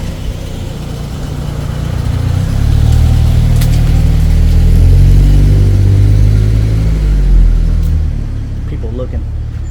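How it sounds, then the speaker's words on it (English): Road traffic passing by near a jungle roadside, a loud low engine rumble that swells as vehicles approach and go by, then fades back. "So much traffic coming by, man."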